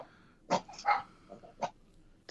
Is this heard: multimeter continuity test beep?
no